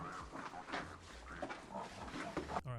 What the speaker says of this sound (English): The oinks afterwards really sold it for me.